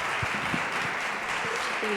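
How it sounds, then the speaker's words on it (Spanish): Attendees of an expert panel on qualitative research give a brief round of applause, a soft, even patter of clapping lasting about two seconds, with faint voices mixed in. "yo los invito a darles un aplauso"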